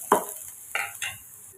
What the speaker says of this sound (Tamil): வெங்காயம் வதக்கி எடுத்தாச்சுங்க